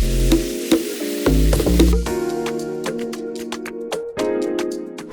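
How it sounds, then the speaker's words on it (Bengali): Prawns frying in hot mustard oil in a wok, giving a steady close sizzle with sharp crackling pops and spatters and a few stirring clatters throughout, with no talk. "এবার কড়াইতে সর্ষের তেল গরম করে মাছগুলোকে ভেজে নিতে হবে।"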